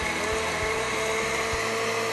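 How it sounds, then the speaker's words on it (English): Blender motor whirring steadily while pureeing pitted cherries for a cherry soup in a kitchen, a continuous close and moderately loud drone with faint rhythmic thumps running through it. "Blend them to a nice consistency."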